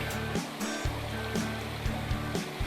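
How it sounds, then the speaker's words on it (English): A river flows steadily beside the Manistee River Trail in Michigan, a continuous broad rush of water that stays even and close throughout, with a few soft bumps and no talking. "Really beautiful stretch of the river right here."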